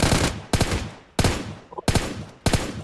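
Gunfire in PUBG Mobile Lite comes as five sharp, loud shots or short bursts spaced about half a second apart, with no talking.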